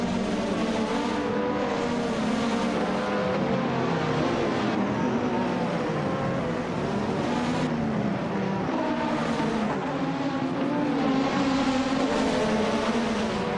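Race car engines roar in a video game race, with a Benetton B188 in the field. The engine sound is loud and continuous, with the pitch rising and falling through shifts and other cars close by.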